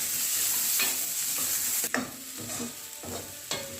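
Onions sautéing in a pan for a Kongu-style mutton curry, a bright close sizzle with several scraping stirs and spatula knocks, no talking.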